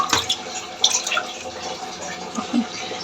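Washed green peas draining in a strainer, with faint water trickling and a few soft drips over a quiet, steady background, no voices.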